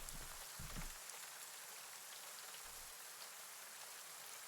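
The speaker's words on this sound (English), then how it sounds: "You don't hear anything except the buffet of rain, though, after the door shuts behind you." Heavy rain pours steadily down a narrow alleyway, a dense, even hiss that fills the whole clip, with a couple of brief low thumps near the start.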